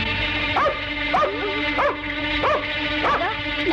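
A dog barks and yips in a rhythmic series of about six sharp, fairly close barks over a steady background tone, with no voices.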